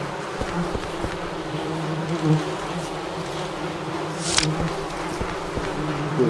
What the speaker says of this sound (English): Sounds like bugs